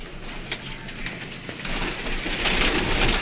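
Pigeons cooing close by with a low, rolling murmur, amid steady background rumble that grows louder toward the end.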